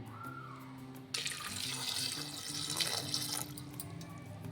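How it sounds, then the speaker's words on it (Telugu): Water pours from a tap into a pot holding bay leaf, cloves, cardamom and cinnamon for rajma curry, a steady splashing rush lasting about three seconds under a faint background hum. "కొద్దిగా వాటర్ పోసేద్దామండి"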